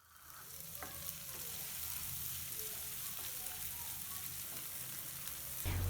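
Cut potato pieces sizzle softly in oil with ginger-garlic paste while being stirred, a steady moderate frying hiss with occasional clinks.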